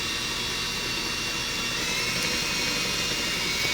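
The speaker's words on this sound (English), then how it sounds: "Drill mixer, I guess you'd call it." A drill mixer whirs continuously and steadily up close, stirring epoxy resin for a woodworking pour, with a constant high-pitched motor whine and no talking.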